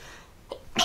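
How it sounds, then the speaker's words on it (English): A single sharp human sneeze, with a short indrawn breath just before it, sounds close and fairly loud over quiet room tone. "Also need to sneeze."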